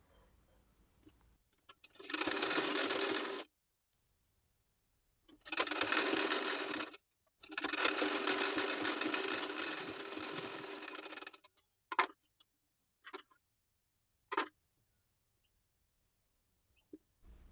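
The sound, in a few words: sewing machine stitching blouse sleeve side fitting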